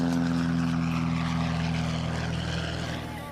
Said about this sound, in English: The plane is out front, fueled up, and waiting.